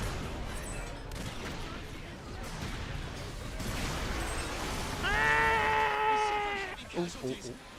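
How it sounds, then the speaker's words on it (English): Battle noise from the video game Earth Defense Force 5, with a dense, sustained barrage of shots and blasts and a rising, wavering wail layered over it near the end, all fairly loud and continuous. "Avoid the artillery fire!"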